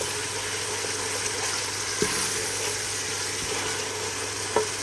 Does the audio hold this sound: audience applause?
no